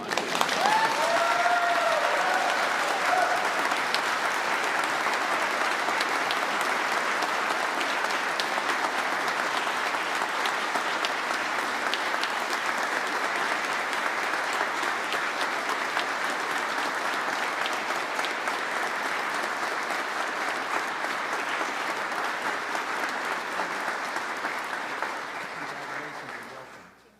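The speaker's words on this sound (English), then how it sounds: "You can clap if you want." Senators on a state Senate floor applauding to welcome a newly sworn-in senator, sustained even clapping from a large room for over twenty seconds before fading away.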